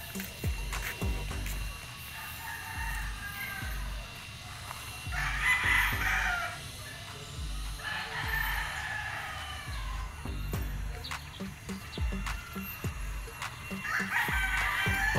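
Roosters crow repeatedly on a gamefowl farm, several calls rising over a steady outdoor background with scattered thumps and faint distant activity.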